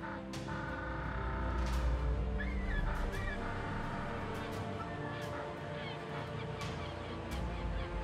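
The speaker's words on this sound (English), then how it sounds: "Boulders has become world famous for its thriving colony of African penguins." An African penguin colony at Boulders beach near Simonstown calls with scattered honking and braying cries over a steady, dense background, moderately loud and continuous with no talk.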